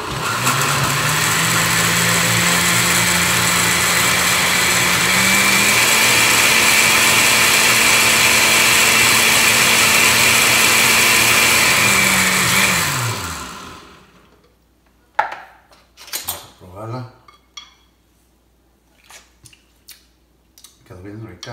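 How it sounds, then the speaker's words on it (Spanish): Kitchen blender grinding green salsa, a loud steady motor whir that shifts pitch partway through as the contents blend, then winds down and stops, followed by clatter and brief sounds of handling. "Lo vamos a echar aquí a la licuadora y lo vamos a moler."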